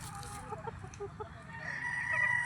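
At a gamefowl farm in Tagaytay City, a rooster crows and clucks a few times at moderate distance, over a steady murmur of background farm noise.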